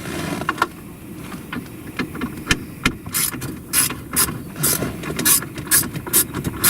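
A socket ratchet clicks in quick, uneven bursts while backing out small screws on a Jeep JK interior panel during a car stereo install, close and fairly loud, with no talking.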